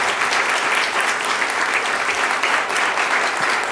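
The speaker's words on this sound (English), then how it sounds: "join me in standing for a round of applause" Audience at an annual event gives a standing round of applause, a steady, dense wash of clapping that stays loud and even throughout with no break.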